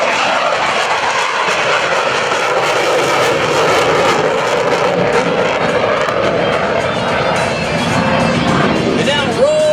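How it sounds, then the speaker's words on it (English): A Navy F/A-18C Hornet at an airshow goes to full afterburner on a touch-and-go go-around, a loud, sustained jet roar filling the whole stretch without letup. "wheels touch, it'll be full-on afterburner for the go-around"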